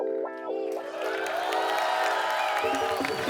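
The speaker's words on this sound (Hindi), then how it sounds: "आप सबकी जोरदार तालियों के बीच मैं इनवाइट करना चाहूंगा इंडियन टेनिस सुपरस्टार" On a comedy talk show, a studio audience breaks into applause and cheering, a swelling crowd roar with whoops that rises after a sustained musical tone and holds loud to the end.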